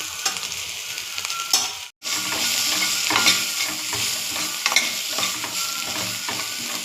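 Ginger and turmeric being stirred into capsicum masala in a hot pan: a spoon scraping and stirring over a constant oily sizzle, close and continuous, with one brief break.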